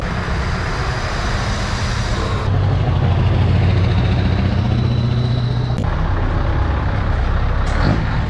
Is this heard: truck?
yes